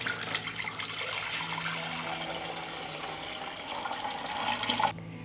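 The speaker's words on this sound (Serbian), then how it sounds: "u njega ću sipati litar hladne vode" About a litre of cold water pours steadily into a 6-litre metal pressure cooker, a continuous splashing rush that stops abruptly near the end.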